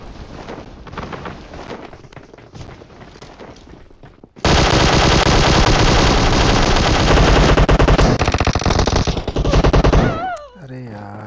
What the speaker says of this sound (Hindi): अरे गन फाइट है।